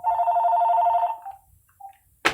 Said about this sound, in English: Every time I do a YouTube video, there's always someone calling the house phone.